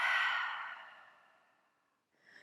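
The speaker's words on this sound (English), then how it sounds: "exhale out through the mouth with a HA sound for the count of 4 or 5" During a Pilates breathing exercise, a long breathy exhale goes out through the mouth with an open HA sound. It starts loud, fades over about two seconds, and a short soft breath follows.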